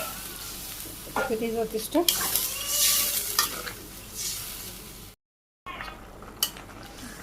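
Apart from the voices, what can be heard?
potato and pointed gourd curry sizzling in pan with water added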